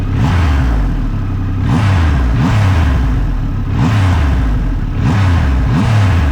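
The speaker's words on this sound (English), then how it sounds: "when you blip the throttle on this thing and get that crankshaft mass spinning up" A Triumph Rocket 3 Storm R motorcycle engine revs up and drops repeatedly, about five rising throttle blips in a steady rhythm, loud and close with a mechanical clatter underneath.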